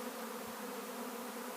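A bee swarm moving into a garage workspace makes a dense, continuous buzzing hum, close and steady throughout with no other sounds.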